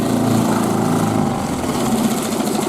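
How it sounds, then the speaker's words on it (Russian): An outboard boat motor on a river trip through the taiga drones steadily and loudly up close, its pitch holding flat because it is not reaching full revs. No voices are heard. "У меня мотор полный оборот не набирает"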